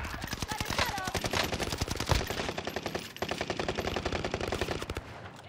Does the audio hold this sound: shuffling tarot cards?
no